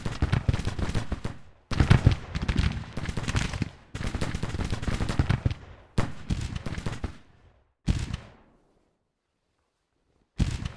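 Massed regimental musket volleys in a video game battle, a dense rolling crackle of gunfire in several long bursts separated by short gaps, ending in scattered shots.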